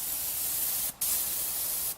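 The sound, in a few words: gravity feed spray gun spraying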